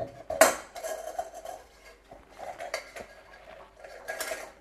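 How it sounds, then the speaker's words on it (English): Metal clinks and scrapes up close as a knife pries the rubber gasket out of a moka pot, giving one sharp clank followed by several lighter taps and scratches. "just use a knife and pry the gasket"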